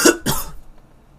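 Two quick, close coughs in succession, then silence.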